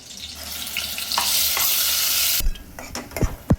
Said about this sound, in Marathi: कांदा आता व्यवस्थित परतून होत आला, हलकासा ब्राऊन झालाय